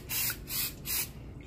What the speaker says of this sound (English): Even though it's non-stick, I'm still gonna add those spray.